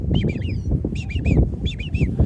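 Shorebirds such as greater yellowlegs and willets calling on a coastal marsh: bright, repeated clusters of piping notes in three bursts over a steady rushing outdoor background.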